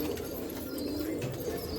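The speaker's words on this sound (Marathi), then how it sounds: "हा इलाहाबादी कबूतर आहे बा" An Allahabadi pigeon at a Nashik pigeon festival gives a quiet, low, continuous cooing murmur, faint and steady across the short stretch.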